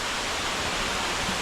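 Ekagudi waterfall in Malkangiri District, Odisha, pours as a steady, broad, hissing rush of falling water, continuous and fairly loud, with no voices.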